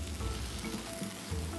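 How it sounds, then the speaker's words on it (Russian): Unpeeled washed vegetables char in a dry pan without oil, giving a soft, steady sizzle with faint crackles and occasional stirring scrapes, quiet and close. "Жарим без масла, чтобы не добавлять калорийности, и до черноватой корочки."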